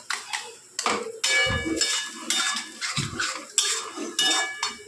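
Taro leaves are sautéed in a pan, heard as loud, rhythmic scraping and clanking of a spatula against the metal with brief thumps between strokes.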